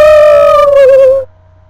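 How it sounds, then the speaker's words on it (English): A single sustained bird call, a clear tonal note with rich harmonics held for about a second before cutting off, loud and close, with no talking. "I see a bird coming!"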